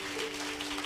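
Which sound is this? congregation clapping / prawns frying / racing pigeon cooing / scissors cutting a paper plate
congregation clapping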